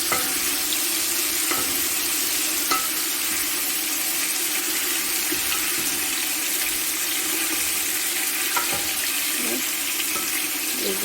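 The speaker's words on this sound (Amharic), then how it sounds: "ስጋችሁን እንደዚህ ጥበሱት።" Meat for a biryani frying in a pan, a dense continuous sizzle with occasional clinks of stirring, close and steady throughout, no talking.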